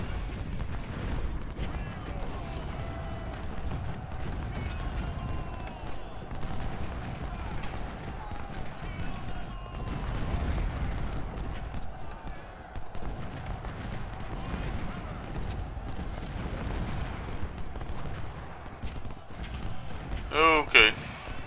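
Scattered musket volleys and distant artillery booms from a Civil War battle in Ultimate General: Civil War crackle continuously at moderate loudness beneath someone talking.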